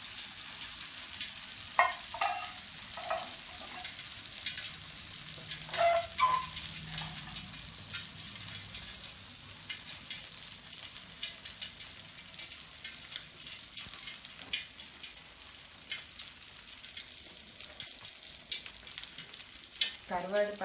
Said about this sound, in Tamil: கருவாடு பார்த்தீங்கன்னா நல்லா ப்ரௌனாக வர வரைக்கும் வறுக்கணும்